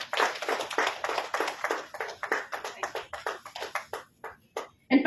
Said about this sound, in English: Can we have the applause, please?